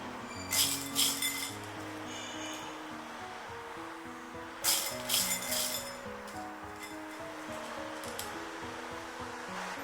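Dried soybeans poured into a bowl and picked over by hand, with two bursts of bright rattling and clinking near the start and middle, followed by softer scattered taps and shuffling in a quiet kitchen.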